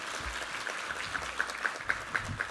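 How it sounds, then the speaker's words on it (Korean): A church congregation gives a short round of applause during a Sunday service, soft and fairly steady, with slight regular swells over a couple of seconds. "우리 하나님께 감사와 영광의 박수 올려드리겠습니다"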